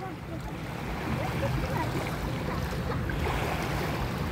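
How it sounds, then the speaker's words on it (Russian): Waves wash against the shore of the Volga river in a steady, broadband rush with a windy roar, swelling louder after the first second and continuing unbroken. "Паш, у нас здесь волны, как на море."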